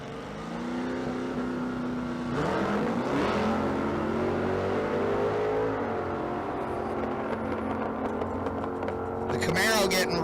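Drag race launch at a Las Vegas street car event, a 2018 Dodge Hellcat against a 1968 Camaro: loud, sustained engine roar with rising revs, over crowd noise and announcer talk.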